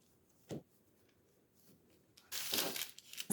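A knife cuts 240 g of Korean fish cake (eomuk) on a cutting board, giving a faint single chop followed a moment later by a louder cluster of cutting and scraping sounds in a quiet kitchen.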